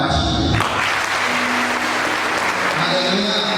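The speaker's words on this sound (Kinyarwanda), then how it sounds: "wakomera Imana amashyi" A church congregation in Burundi claps together in praise, a loud, full burst of many hands that runs steadily after a brief opening, with some voices mixed in.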